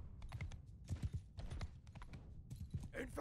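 Horse hooves clip-clop in the battle game Bannerlord, a quick run of close, uneven knocking steps with a soft whinny near the end, over a steady rumble of fighting noise.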